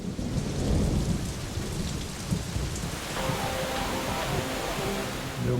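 Heavy summer rain pours steadily near a waterfall, with low rumbling thunder rolling underneath the dense hiss throughout.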